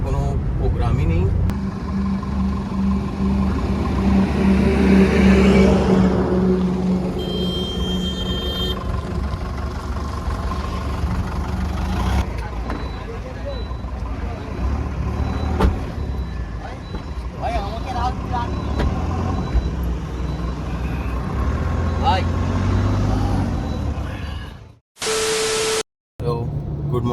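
Cars and trucks rumble in a steady, broadband wash of traffic noise during a jam on the road. Brief abrupt cuts appear near the end, and a person talks over the noise.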